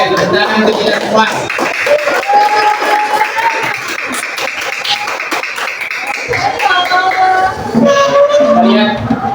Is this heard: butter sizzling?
no